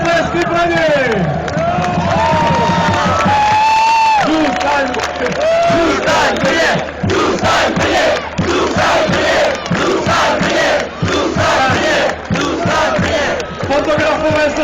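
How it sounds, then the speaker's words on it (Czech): Large outdoor crowd of hockey fans celebrating Kometa Brno, roaring, chanting and clapping loudly, with a voice over a loudspeaker cutting through the cheering. "Obrovský potlesky pro něj."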